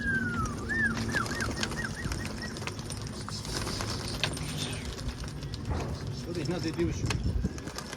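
Pigeons coo softly in a short repeated series at a poultry coop, with more cooing later, over a busy outdoor background of bird calls and faint traffic.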